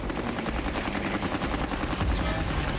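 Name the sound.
anti-aircraft guns firing at attacking planes, dramatized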